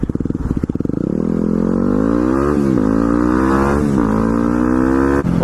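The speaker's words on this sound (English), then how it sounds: "now what is this truck seriously doing?" A truck engine running close by, its loud harmonic drone rising steadily in pitch as it accelerates, with brief dips as it shifts gears, dominating the scene.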